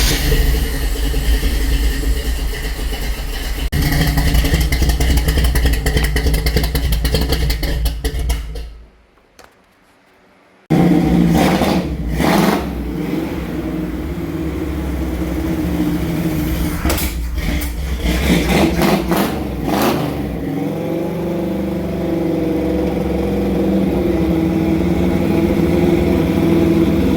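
A C10 Squarebody Chevy truck engine running loud and close, a steady rough idle with surges of revving, briefly cutting out before firing back up and settling into a lower idle.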